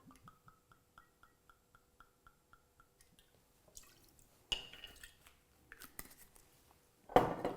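Dry vermouth and Campari measured and poured into a mixing glass for a Gloria cocktail: a steady series of faint ticking drips, then several short, close splashing pours, the last one louder.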